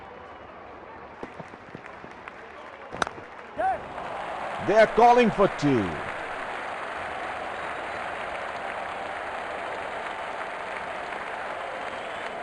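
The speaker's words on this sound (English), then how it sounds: "Crowd going mad here." Cricket crowd at an Abu Dhabi T10 match roars and applauds, broadband noise rising midway with a burst of louder shouting, then holding as a steady wash under a commentator's voice.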